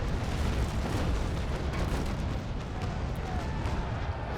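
Ship cannons fire a broadside in the naval combat game Naval Action, a dense, rumbling roar of overlapping booms that stays loud and continuous throughout, with no clear separate shots.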